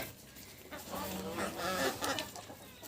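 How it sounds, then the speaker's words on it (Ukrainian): Chicks and chickens in a farmyard, a cluster of soft clucking and thin peeping calls close by, fairly quiet and continuous with a faint background hum. "Курчатка."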